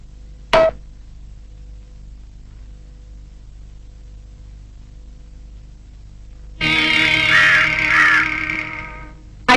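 A crow caws twice, one short sharp call near the start and then a longer, louder, harsher caw after a stretch of quiet, close and clear.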